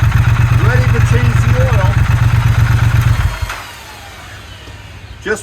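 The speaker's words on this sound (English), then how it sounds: "Just warming up the motor, actually warming up the oil so that it flows completely out of the motor." A Triumph Thruxton RS motorcycle engine idles to warm its oil, a loud, close, throbbing rumble that cuts out after about three seconds, leaving quiet hum and a brief knock at the end.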